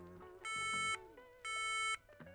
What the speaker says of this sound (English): It does beep twice, so you can check the speaker as well.